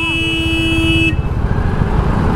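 Loud, steady vehicle horn blaring for about a second from behind in traffic, then cutting off, leaving engine rumble and road noise, heard close from inside a vehicle.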